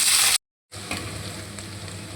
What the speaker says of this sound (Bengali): আর পেঁয়াজগুলোকে ভেজে নেব।